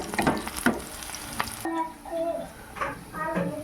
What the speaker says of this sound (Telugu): ఆనియన్స్ పచ్చిమిర్చి కూడా వేగాయి.